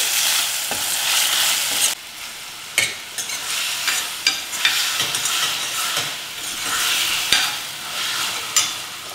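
Tomatoes sizzle and fry in a pan while being stirred, giving a steady crackling hiss broken by scraping strokes and occasional clinks of the utensil against the pan. The sounds are close and continuous, and no one speaks.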